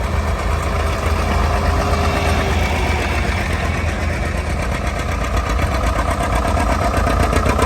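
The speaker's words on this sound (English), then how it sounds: "you hear the rumble. Here comes a couple John Deeres here." John Deere model 70 diesel tractors roll past in a tractor parade in Spring Valley, Ohio, giving a loud, continuous low rumble that stays steady throughout with no talk over it.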